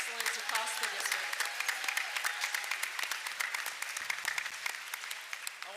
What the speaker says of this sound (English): Please join me in one more round of applause for all of our academic excellence across the district.